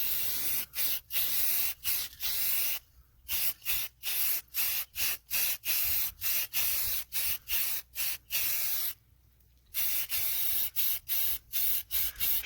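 Short repeated bursts of aerosol spray paint in black, hissing in quick rhythmic pulses with a couple of longer pauses, close and clear.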